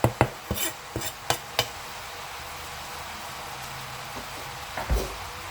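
Mince and onions for a cottage pie stirred in a pan, several sharp spoon scrapes and knocks early on, then a quiet low background with a faint soft clatter near the end.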